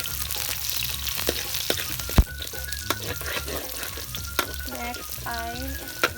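Garlic and onion frying in a pan and being stirred: a steady close sizzle with scattered scraping clicks and one sharp knock, plus a few faint voices and some tonal background sounds toward the end.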